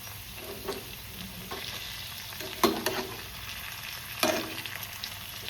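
Long strips of eggplant and soft potato fry together in a pan, giving a steady close sizzle broken by two sharper bursts as the pieces are stirred.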